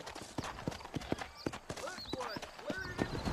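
Horses trot in the Red Dead Redemption video game, their hooves clip-clopping in a quick, steady rhythm close by, with faint voice-like sounds and other game sounds mixed in.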